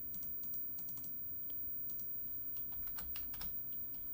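Computer keyboard typing gives a soft, uneven run of quick clicks over a low background hum.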